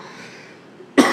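A single sharp cough bursts out near the end after a stretch of quiet room tone, loud and close, from a lecturer teaching a notarial and registry law class who has a bad cough.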